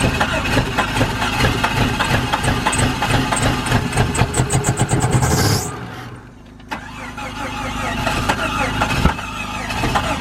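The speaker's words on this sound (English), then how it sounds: "We got it started, but it's not running unless you keep it cranking fully throttle." A Jeep engine cranks and runs roughly after a fuel pump repair, kept going under full throttle with a loud steady roar, then cuts out briefly before turning over and running again, close by.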